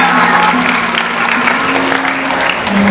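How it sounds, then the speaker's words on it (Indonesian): Loud, sustained applause from an audience clapping for children at a Bible puppet show in Balikpapan, a dense, even wash of clapping that keeps going throughout with a faint tonal hum beneath. "Tepuk tangan untuk anak-anak."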